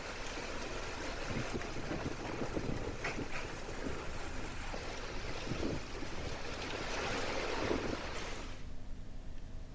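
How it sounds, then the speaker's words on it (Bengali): Stormy wind and heavy rain from Cyclone Montha, a dense continuous roar and hiss of gusting wind with rain, loud and steady throughout before cutting off abruptly near the end, with no voices. "ভারী বৃষ্টির পাশাপাশি ঘন্টায় চল্লিশ থেকে পঞ্চাশ কিলোমিটার বেগে বইছে ঝোড়ো হাওয়া"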